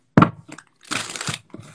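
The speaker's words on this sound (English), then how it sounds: "I'm going to take a pause and shuffle for Cancer." A deck of cards being shuffled for a reading, a close sharp riffle followed by a longer papery burst of flicking and sliding cards, loud and alone.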